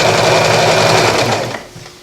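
Sewing machine stitching a garment, a loud close whirring hum with fast rhythmic needle chatter that winds down and stops near the end.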